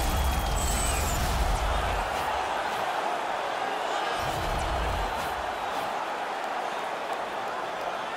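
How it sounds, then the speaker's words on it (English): A hockey arena crowd in the NHL 20 video game roars and cheers steadily throughout, a dense wash of noise with faint thumps from the rink below; no talk is heard over it. "this crowd on fire now here in the arena"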